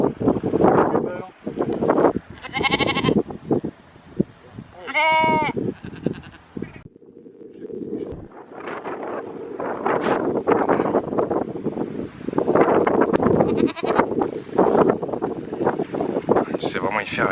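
Goats bleating on a farm in several wavering calls, close to the microphone, with gusts of wind buffeting it and people talking in French between and over the animals.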